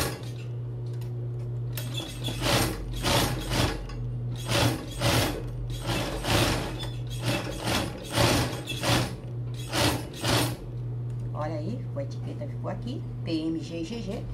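Sewing machine stitching a padded bra, rapid mechanical clattering in repeated bursts over a steady low motor hum, with a person talking throughout.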